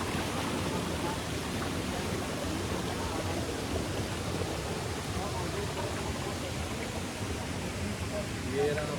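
River water rushes loudly and constantly at Arlong Kundu, a steady broadband roar that stays close and even from start to finish.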